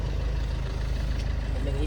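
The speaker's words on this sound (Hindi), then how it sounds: "फाइनली गाड़ी हमारी स्टार्ट हो गई है।" A Jaguar car engine runs steadily after finally starting, a continuous low rumble close by, droning without a break.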